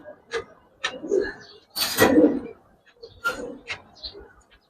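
Silver-colored pigeons cooing at a bird market, a few soft rounded coos in short bursts separated by brief pauses, with fainter calls and market noise around them; no speech over them.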